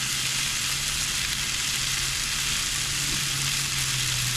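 Chicken wings coated in thick Big Mo's Arkansas barbecue sauce sizzle in a hot pan, a steady, close frying hiss with no gaps and no voices.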